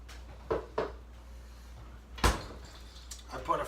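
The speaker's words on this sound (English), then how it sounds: "Back into the fridge so it stays nice and cool." A kitchen fridge door is handled while a shrimp Mozambique dish goes back inside to stay cool: a few soft knocks and a louder thump of the door closing, fairly close, under quiet background hum.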